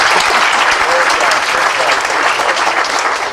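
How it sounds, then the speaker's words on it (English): Commencement audience at a Buffalo school clapping for a student speaker, loud, dense and sustained applause close by for the whole stretch, with faint voices mixed in. "I'd appreciate it if you could clap after everything I said."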